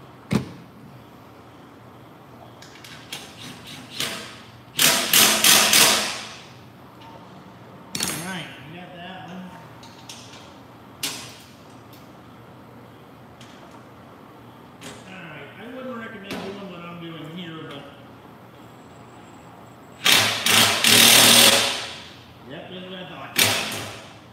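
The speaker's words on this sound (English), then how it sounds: "Or new impact wrenches suck." A new impact wrench fastens parts of an aluminum cover, firing in a few loud, sharp bursts with scattered clanks and handling noises between them.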